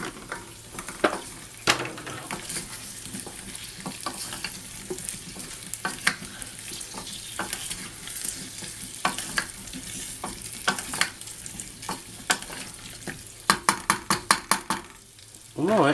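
Cherry tomatoes cook in a pan for soup, sizzling steadily while a spoon stirs and scrapes them, with sharper clinks of utensil against the pan near the end.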